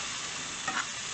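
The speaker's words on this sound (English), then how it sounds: "you can hear that good sizzle" Philly cheesesteak meat is stirred in a hot pan, giving a steady close sizzle with a brief scrape from the stirring partway through.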